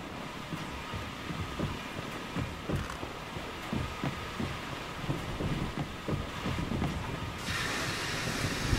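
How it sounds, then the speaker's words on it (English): A train in Mafia II rumbling into motion, with rhythmic clanking and thumping wheel beats over a steady low drone and wind-like noise, moderately loud and without talk. "I'm gonna go start up the train"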